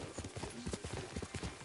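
Horse hooves clip-clop in a quick steady rhythm while riding in the Ghost of Tsushima video game, fairly close and continuous, with some game ambience underneath.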